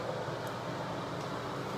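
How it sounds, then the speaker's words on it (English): A bathroom exhaust fan runs with a faint, steady broadband whir that stays even throughout the short stretch, with no talking. "that noise you hear is the exhaust fan"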